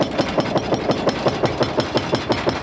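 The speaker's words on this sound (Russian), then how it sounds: "Отбойный молоток дробит пол и перекрытие между этажами." Jackhammer breaking up a floor and the slab between storeys while a building is demolished in Sochi, a fast, steady hammering of loud, close impacts that runs through the whole clip over a constant engine drone.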